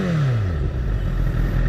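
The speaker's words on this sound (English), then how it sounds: "We're revving." A Honda CBR 1000 sport motorcycle's engine revs briefly and loudly in first gear, its pitch sweeping through a short rising-and-falling surge against a rumbling, clattery background.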